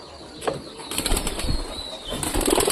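Pigeons, including a one-eyed Giribaz, flap their wings as a coop door is opened, giving several bursts of fluttering over faint background noise.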